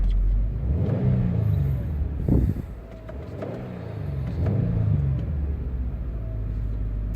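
A 2018 Subaru WRX STI engine, in a new car, is revved twice while stationary, each blip rising into a rough roar and falling back to a throbbing idle. The engine is loud and close, with no talk.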